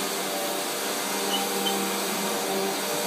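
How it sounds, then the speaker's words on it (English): A vacuum cleaner runs steadily and loudly throughout, a continuous whirring drone with no pauses, while a dog plays nearby without making any distinct sound of its own. "Between him and the vacuum cleaner."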